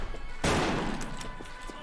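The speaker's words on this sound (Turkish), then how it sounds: "Arkamızda yine bir çılgın var. ETSR ile milleti vuruyor." A sniper rifle shot in the online shooter Wolfteam cracks out once, loud and sharp. A long noisy tail follows and fades slowly, with a few faint distant pops behind it.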